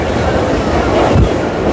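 Intercity Superfast train on the Bhubaneswar to Vizag coastal route, near a station: a loud, steady broadband rumble of rolling wheels and carriage noise with a faint clatter, no voices.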